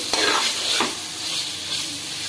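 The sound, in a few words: sautéing vegetables with turmeric powder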